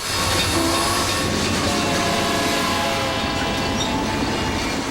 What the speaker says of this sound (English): These days, the trains that pass through here are freight trains belonging to the Union Pacific Railroad.